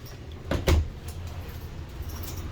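A closet door inside a 2020 Forest River Wildwood 27RKS travel trailer swings open with a single short knock and rattle, heard close up against a faint steady room hum.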